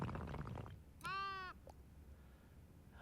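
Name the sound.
angry sheep bleating in the video game Tiny Glade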